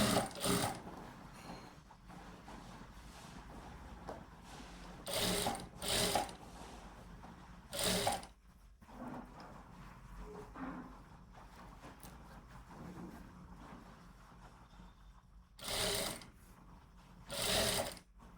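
A sewing machine stitches a bell sleeve in short, close runs of rapid mechanical whirring, several bursts separated by brief pauses in a quiet room.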